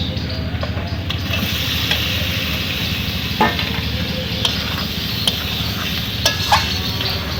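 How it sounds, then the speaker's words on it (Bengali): A spatula stirs fried duck eggs and potatoes in a pan with turmeric and dried chilli powder, scraping and clattering with sharp knocks over a continuous sizzling hiss. "এখন আমি একটু ভালো করে নাড়িয়ে নেবো আমি ভেজে রাখা ডিম আর আলু দিয়ে দেবো"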